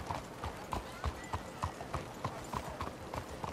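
Horse hooves clip-clop at an even walking pace in Red Dead Redemption 2, a steady rhythm of close, moderately loud thuds with no talk.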